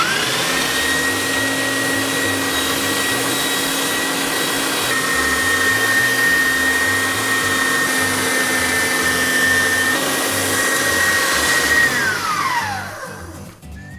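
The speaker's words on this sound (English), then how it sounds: "we're going to put it through the grinder with some seasoning and a little bit of mustard" Electric meat grinder running steadily as rabbit meat and sausage with seasoning and mustard are fed through it, a loud continuous motor whine with a steady tone that holds for about twelve seconds before spinning down.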